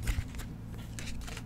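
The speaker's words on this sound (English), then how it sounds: "There's a new way of shuffling, by the way." Playing cards shuffled with a new riffle-style technique at close range, giving a few short ruffling bursts over a low steady background hum, no talking.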